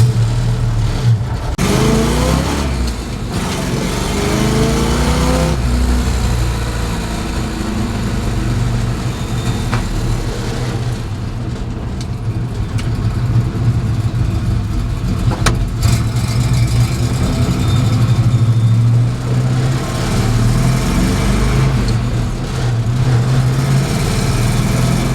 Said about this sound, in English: Mild-mannered in third gear, just cruises right along, about 30 miles an hour, just putting along.